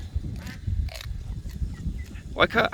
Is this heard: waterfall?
no